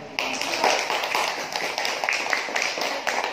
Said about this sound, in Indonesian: tepuk tangan buat kelompok 2 ya